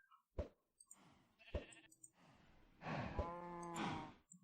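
Cows moo in a modded Minecraft world: short clicks and thumps lead into a long, tonal moo near the end, fairly quiet and close, with no voices.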